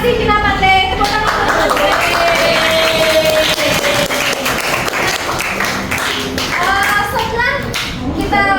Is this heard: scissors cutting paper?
no